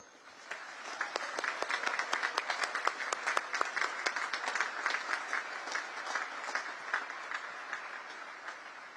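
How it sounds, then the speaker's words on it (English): Graduation ceremony audience at the US Naval Academy gives a heartfelt round of applause, dense sustained clapping from a large crowd that swells and then eases slightly over several seconds. "please join me in giving them a heartfelt round of applause"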